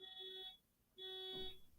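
Small car's alarm sounding in two shrill electronic tones separated by a short gap, faint and distant, with no talk over it.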